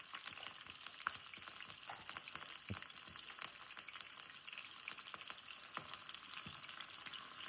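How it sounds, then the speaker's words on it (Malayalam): Green chillies frying in oil in a pan for Kerala-style chilli beef, a steady close hissing sizzle with small crackling pops throughout, no talk. "ആദ്യം ഞാൻ പച്ചമുളക് ഇടുവാണേ"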